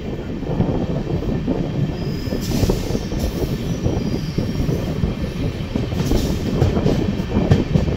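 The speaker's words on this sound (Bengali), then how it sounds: "সামনে আসছে নিউ দিল্লি হাওড়া রাজধানী এক্সপ্রেস, সেটার সাথে ক্রসিং হবে এখন" New Delhi–Howrah Rajdhani Express passing at speed on an Indian line, a continuous roar of wheels and clattering coaches with faint squeals, close and loud throughout.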